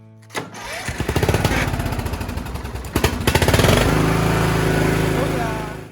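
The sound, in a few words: small engine starting with choke on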